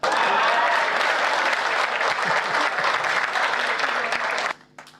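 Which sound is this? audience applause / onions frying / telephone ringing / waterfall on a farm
audience applause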